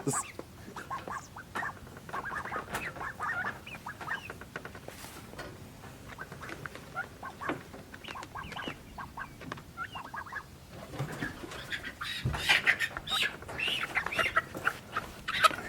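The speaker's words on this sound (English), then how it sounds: "Now one more little chicken, it's the smallest one." Chickens on a farmhouse homestead being moved cluck and chatter softly, with scattered squawks and some handling noise, growing busier near the end.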